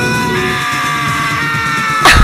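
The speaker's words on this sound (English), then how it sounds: "Hey, I heard screaming." A sustained scream rings out in the video game Danganronpa, loud and continuous over a droning music bed, with a sharp burst at the very end.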